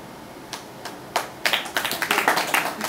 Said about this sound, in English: Thank you, whoever that was to snap